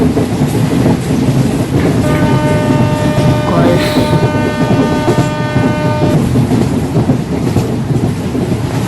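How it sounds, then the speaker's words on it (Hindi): In an Indian train driving 3D game, a train horn sounds a loud, sustained blast for about four seconds over the steady, close rumble and clatter of wheels on the track. "सामने कर्व आ रहा है, एक बार हॉर्न बजा देते हैं।"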